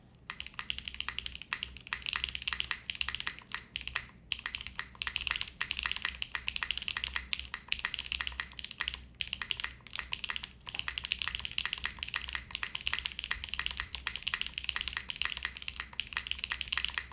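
Continuous fast typing on a Zoom 75 mechanical keyboard with no foam inside and a thin, flex-cut PCB, dense close keystrokes clacking steadily with brief pauses, no speech.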